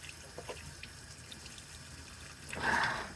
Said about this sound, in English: there's still water coming out of the little hole